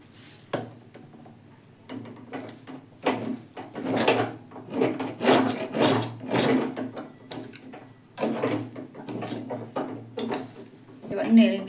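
A spoon stirs a mung dal lentil filling in a pan, making irregular scraping and knocking strokes that come in repeated bursts, fairly close and alone.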